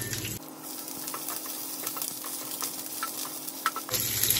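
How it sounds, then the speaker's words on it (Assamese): Chopped onions drop into hot oil in a pan and fry with a steady, close sizzle and crackle, with faint stirring taps scattered through the hiss. "তেলখিনি গৰম হোৱাৰ লগে লগে মই ইয়াত কাটি থোৱা পিয়াজখিনি ইয়াত দি দিছো।"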